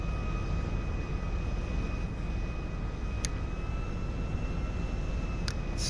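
Steady aircraft engine drone at an airport in the video game GTA, a constant broadband roar with a faint tonal whine, continuous and fairly distant, with no talking.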